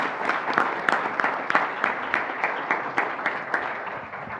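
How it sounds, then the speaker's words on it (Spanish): An audience gives a sustained round of applause for the translators at a closing ceremony, dense and steady with many overlapping claps, moderately loud from the surrounding crowd, and no speech over it. "Así que un aplauso para ellos."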